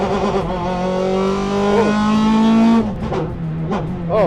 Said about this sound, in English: it's a proper race car, all right